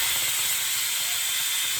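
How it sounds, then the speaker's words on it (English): An Instant Pot venting steam after cooking rice, giving a continuous loud hiss that stays bright and even from start to finish. "gonna open the steam, and the rice will be done"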